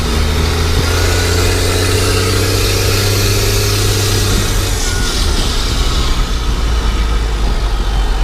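A 1991 Ford F350 engine, freshly fitted with a new oil pump, runs steadily and loudly at a constant rumbling idle throughout, with no talk over it.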